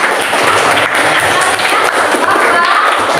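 A classroom of students applauds a classmate, Dea, with loud, dense, continuous clapping that fills the room, while a teacher's voice talks over it.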